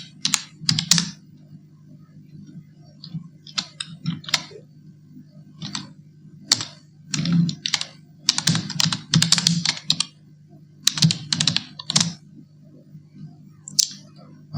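Typing a channel name on a computer keyboard, with bursts of quick, close key clicks in several runs separated by short pauses, over a steady low hum and no talk.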